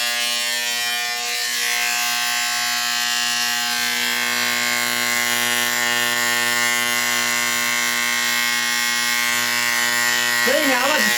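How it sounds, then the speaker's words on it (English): An electric shaver buzzes steadily and close while shaving a head, a continuous whining hum with little change, and a voice is heard near the end. "I really try to get in there and shave it close just like I would my face or my neck"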